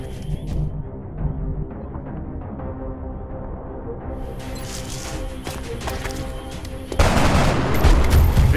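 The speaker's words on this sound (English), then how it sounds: "Incoming fire." Gunfire rattles through a multiplayer trailer for the XCOM video game as a steady run of mid-level shots and impacts, ending in a louder, denser burst of fire and explosions.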